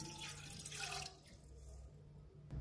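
Water is poured into a cooking pan to start a sugar syrup for kimami sewai, a short splashing gush that fades to a lighter trickle within about a second, quiet and close.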